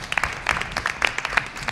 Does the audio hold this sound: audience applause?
yes